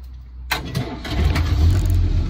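A Land Rover Series 3 Lightweight engine cranks and catches after a quiet start, then settles into a steady, rumbling idle close by.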